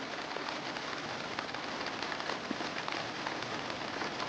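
Steady rain falls outdoors in an Indian household setting, a dense, even hiss with scattered drips, bird calls faintly mixed in, no talking.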